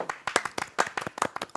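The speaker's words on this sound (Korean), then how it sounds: "여성 게스트 박수 한번 칠까요?" Studio audience and hosts clapping for a female guest on a Korean variety talk show: a short, moderately quiet burst of individual hand claps, slightly uneven and close, with no voices.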